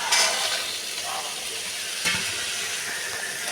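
Green peas and green chillies sizzle in a hot pan while being sautéed for ghugni, a close steady frying hiss broken by scraping stirs of a spoon.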